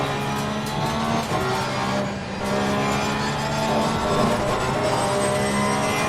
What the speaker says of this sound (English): Oh yeah, this car sounds amazing.